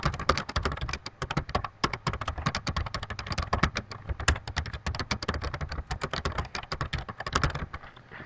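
Rapid keystrokes on a computer keyboard, typed close and steadily, with a dense run of clicks and taps for several seconds and no voices.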